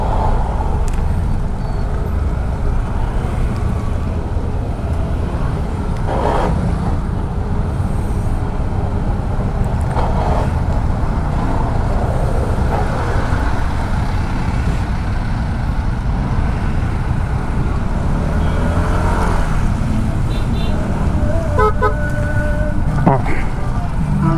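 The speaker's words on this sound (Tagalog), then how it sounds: "Grabe ang traffic ngayon dito" Heavy afternoon road traffic on a route in Batangas toward Tanawan and Tagaytay, a steady loud rumble of cars, trucks and buses passing close by throughout, with someone talking over the noise.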